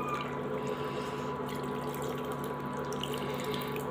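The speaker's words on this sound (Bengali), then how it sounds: "তো এই যে আর একটু পানি দিয়ে দিলাম।" Water pours steadily into a cooking pan on the stove while a small fish chorchori is made: a continuous, fairly loud running stream like a tap, with no talking.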